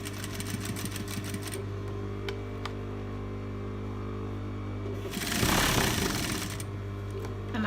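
A sewing machine runs in steady bursts as it top-stitches an off-shoulder dress, with a close mechanical whir over a low motor hum and a short louder stretch near the end.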